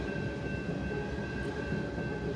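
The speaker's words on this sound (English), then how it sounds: "I always end up getting a coal train coming" A BNSF coal train rolls past on the Brainerd Subdivision, a steady rumbling clatter of railcars with a faint tonal whine, close and continuous.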